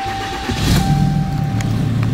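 A 2012 Ram 3500 Crew Cab SLT pickup with aftermarket modifications starting up, the engine catching about halfway through and settling into a loud, close, low rumbling idle.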